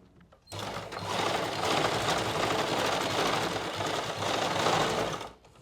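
A sewing machine runs in one steady, continuous whir for about five seconds, stitching a pocket onto palazzo pants, with a sharp start and stop and no talking.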